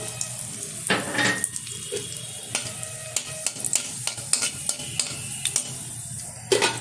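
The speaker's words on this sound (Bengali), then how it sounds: "তেলটা গরম হয়ে গেছে, তেলের মধ্যে দিয়ে দিচ্ছি দুটো শুকনো লঙ্কা ছোট ছোট করে টুকরো করে কেটে নিয়েছি।" Chopped dry red chillies dropped into hot oil in a wok, a crackling sizzle with bursts of spattering and a run of sharp taps and clinks from the pan.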